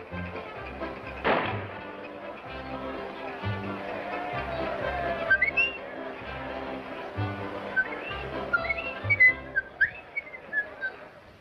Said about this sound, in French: Monte sur l'estrade et siffle Dixie.